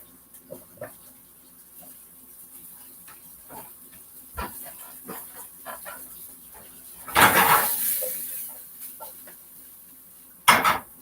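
Brussels sprouts tumble into a hot pan with onions, a loud rattling dump of clattering pieces followed by a brief scrape, amid scattered light kitchen clinks.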